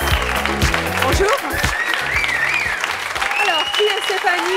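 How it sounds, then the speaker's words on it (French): A television studio audience applauds continuously, loud and close, while voices and music play over the clapping. "on peut les applaudir, oui"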